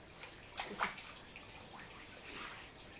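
Faint shower water runs steadily with a soft, even hiss, with a few brief splashes early on.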